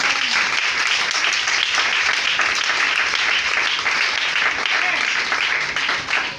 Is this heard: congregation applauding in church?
yes